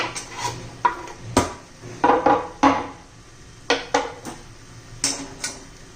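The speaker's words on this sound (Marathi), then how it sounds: "कोथिंबीर व्यवस्थित मिक्स करून घेऊ" Coriander being mixed into a cabbage and peas curry in a pan, with a spoon knocking and scraping against the pan in quick, irregular clanks, close and fairly loud.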